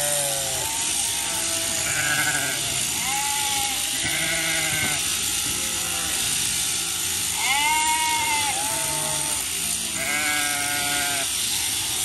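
Sheep bleat repeatedly during shearing of a flock of about a hundred, loud and close with several overlapping calls, over a steady mechanical whine from the shearing gear and no talk.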